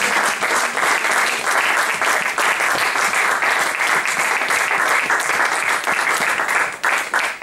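Dense, sustained applause from a church congregation acclaiming Jesus during a French-language service, loud and steady throughout with no talking.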